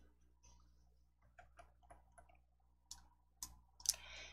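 A mouse click on a settings button in a software menu, heard as a few faint, dry clicks spread across a quiet stretch, with a sharper, louder click near the end.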